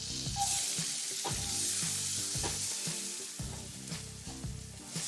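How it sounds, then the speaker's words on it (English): Chopped onions sizzle loudly in hot butter in a pan, a close, continuous frying hiss with soft stirring bumps repeating through it. "Pop the onions in."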